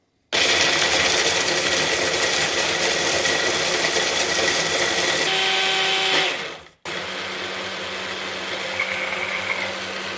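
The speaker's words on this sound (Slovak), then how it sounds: "Orechy s piškótami rozmixujem najemno." An electric kitchen blender grinds walnuts and sponge biscuits into fine crumbs: a loud, steady whirring motor that cuts out abruptly, then restarts at a slightly lower, even drone.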